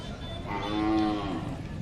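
A young Khillar bull lowing at the Sangola cattle market in Solapur district, one long resonant moo rising and fading over a noisy crowded background.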